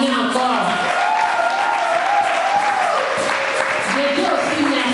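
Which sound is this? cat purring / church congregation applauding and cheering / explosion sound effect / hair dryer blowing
church congregation applauding and cheering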